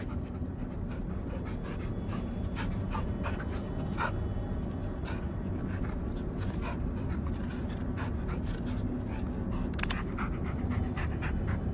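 A dog keeps up steady, rhythmic panting in The Blair Witch video game, a continuous close breathy sound over a low ambient forest bed, with faint scattered clicks and no talk.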